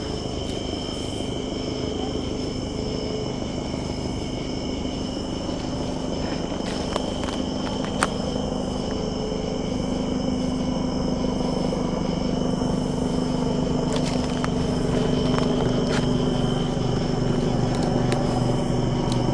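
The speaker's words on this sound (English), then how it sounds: "Comes that helicopter back around again." A helicopter circles overhead at night in the woods, a low steady rumble heard through crickets and insects, with occasional footsteps or rustling nearby.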